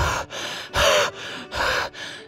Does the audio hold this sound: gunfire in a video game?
no